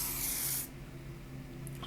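Hair shine mist sprays from an aerosol bottle in one short, close, hissing burst that cuts off abruptly, leaving quiet room tone.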